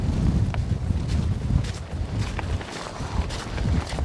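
Strong, brutal wind gusting across a Scottish mountain summit, a steady loud buffeting roar of wind against the microphone with rising and falling surges and no talk.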